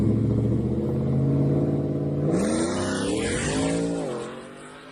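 A four-wheel-drive 2022 Ford F-150 truck accelerates hard in Detroit, its engine winding up through the gears, then tires squeal and hiss loudly, close by, with no voices.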